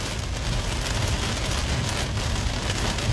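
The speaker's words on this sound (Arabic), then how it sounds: "حاليا هطول أمطار الخير حاليا على صاع شرق مدينة العيد." Heavy rain pours down east of Al Ain in the UAE, a steady, dense roar of drops hitting the ground that stays loud and constant throughout, with no voices.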